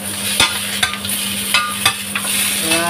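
White radish going into a sizzling beef stew, with a steady hiss of frying under several sharp scrapes and clinks of a utensil stirring in the pot, no voices.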